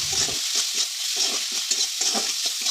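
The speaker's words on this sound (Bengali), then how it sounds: "এবার জিরের গুঁড়ো দিয়ে দিলাম। নেড়ে নেবো আবার।" Curry with turmeric, chilli powder and cumin powder is stirred in a pan, a quick run of short, rhythmic scraping strokes over a hissing sizzle, close and steady, without any talking.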